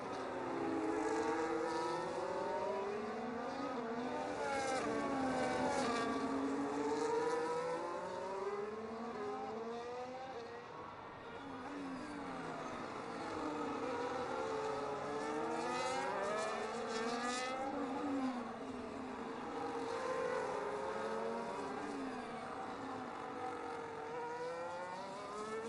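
Race cars lap the Circuit of the Americas in a sim racing game, their engines whining and rising and falling through gear changes, with several cars overlapping in a steady, continuous roar.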